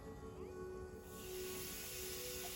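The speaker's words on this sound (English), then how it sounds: "All right, so we're going to go ahead and throw these scallops on." Scallops sear on a hot griddle with a steady, loud hiss that swells after the first second and then holds as continuous sizzling, close up and without talk.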